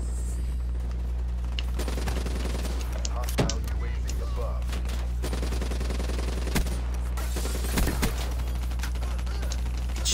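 Repeated bursts of gunfire rip through a Call of Duty: Black Ops 3 multiplayer match: sharp cracks and rattling volleys over a constant low drone, with faint voices in the mix.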